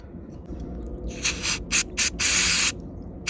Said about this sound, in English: I got some brake cleaner.